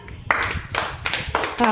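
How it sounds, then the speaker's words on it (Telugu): Second-grade children in a Telugu class clap in short bursts of applause, three or four quick rounds close by, with a teacher's voice talking between them. "very good claps"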